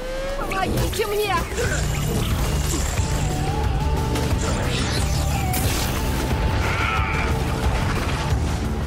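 Missile blasts and crashing impacts in the game Infamous Second Son, loud booms over a dense continuous layer of game music and effects, with someone talking through it.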